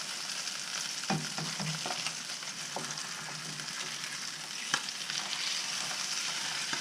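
Pecan-crusted speckled trout fillets frying in a pan, a steady close sizzle with a few scraping clicks and taps of a spatula, no voices.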